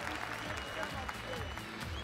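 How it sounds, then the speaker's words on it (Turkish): A live crowd at an esports grand final in the Turkish league keeps up steady, dense applause for about two seconds, loud and continuous with a few voices mixed in. "Biraz daha güçlü alkışlayalım."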